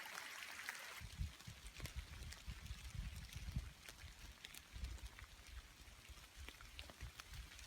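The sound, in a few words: rain falling on the Appalachian Trail near Watauga Lake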